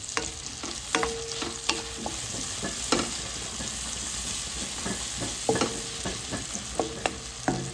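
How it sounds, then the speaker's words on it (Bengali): Chopped onion frying in mustard oil with a pinch of salt and turmeric, a steady close sizzle with occasional scraping stirs of a spatula in the pan. "সর্ষের তেলে চলে যাচ্ছে পেঁয়াজ কুচি।"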